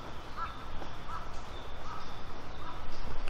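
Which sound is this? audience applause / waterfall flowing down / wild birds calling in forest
wild birds calling in forest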